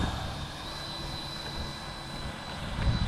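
Freewing F-16 V3 RC jet plane flying in a cross breeze, a steady whining electric ducted-fan hum held at a constant pitch, moderately close, with wind rumble underneath throughout.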